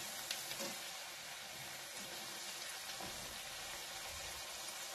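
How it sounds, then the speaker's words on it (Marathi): Spinach (palak) puris deep-frying in hot oil on a medium flame, a faint, steady broadband sizzle and hiss with occasional soft pops, continuous and alone. "तर अशा पद्धतीने आपण सगळे पुऱ्या तळून घेऊ"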